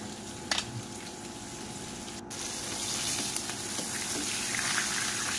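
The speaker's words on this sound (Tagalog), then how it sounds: "Medyo nakakatakot yung talsik ng mantika dyan guys." Hot oil sizzles and spatters steadily as two slices of tanigue fish fry in a small pan, a continuous crackling hiss with a few sharper pops, fairly quiet and with no voices.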